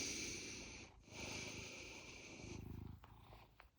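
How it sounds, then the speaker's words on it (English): A pet cat purring close up, a steady low rumble running through most of the clip with a brief pause near the start, soft and intimate with no talk over it. "You know you're purring."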